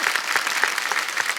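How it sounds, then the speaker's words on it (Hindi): A studio audience on a Kapil Sharma Show episode bursts into loud applause, thick, fast clapping from many people filling the whole short stretch. "जोरदार तालियां"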